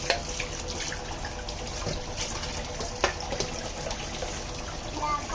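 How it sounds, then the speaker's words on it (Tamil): Running tap water splashing into a kitchen sink while a vessel is washed, a steady close wash of flowing water with small clinks and drips throughout. "Wash the vessel."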